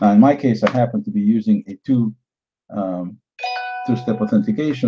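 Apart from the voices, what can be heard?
phone notification chime for two-step authentication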